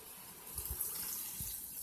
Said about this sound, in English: So I'm gonna add 8 cups of water.